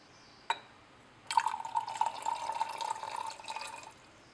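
Dichloromethane poured from a glass container into a lab mixture for extracting a tranquiliser, a faint clink, then a steady trickling pour of liquid lasting a few seconds.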